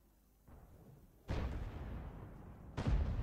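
Artillery fires in the World of Tanks tank battle game, with two heavy booming shots about a second and a half apart over a low rumbling game background and no talk.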